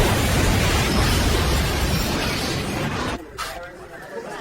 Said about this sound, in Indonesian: akibat ledakan yang terjadi